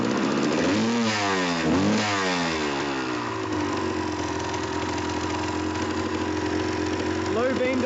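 A 1991 Suzuki TS200R two-stroke dirt bike engine blips through a couple of quick revs, then settles into a steady idle, close and loud, with a short rev again near the end.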